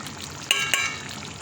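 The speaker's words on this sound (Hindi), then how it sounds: "डालने जा रहे हैं मैं ज़ीरा और सूखा धनिया और कलौंजी" Cumin, dried coriander and nigella seeds dropped into a sizzling pan for a camel meat karahi, a steady hiss with two quick crackling bursts as the spices hit the oil.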